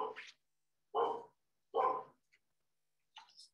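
A dog barks indoors at home, three short separate barks spaced about a second apart, fairly quiet, with a faint higher yip or whine at the end.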